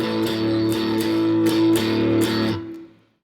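Electric guitar plays a blues rhythm accompaniment in A, a steady shuffling chord pattern of repeated strummed figures, close and clear, ringing out and fading at the end.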